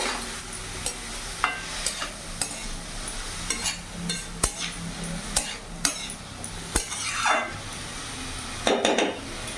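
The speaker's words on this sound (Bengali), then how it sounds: "আর এখানে কাশ্মীরি লঙ্কা গুঁড়ো দিয়ে দিলাম ভালো করে নাড়াচাড়া করে নেবো" Ash gourd curry with Kashmiri chili powder stirred in a pan over a medium flame, with sharp clinks and scrapes of a spoon against the pan over a soft sizzle, repeated irregularly.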